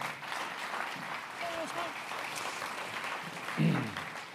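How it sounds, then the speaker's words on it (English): Audience applause at an infrastructure conference as a CEO is welcomed, a soft, fairly distant patter of clapping with some murmuring voices and a brief louder thump near the end. "How about a big round of applause for the CEO of Infrastructure New South Wales, Tom Gellibrand."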